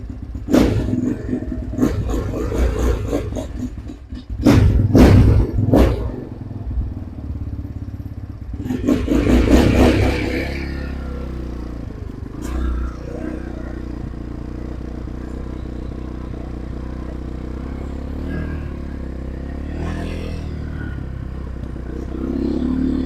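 A cold Trailmaster TM31 motorcycle engine runs with the choke held: loud, choppy throttle blips and revs for the first ten seconds, then it settles into a steady, lumpy idle close by.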